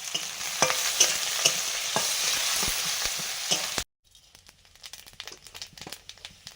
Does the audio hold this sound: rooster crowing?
no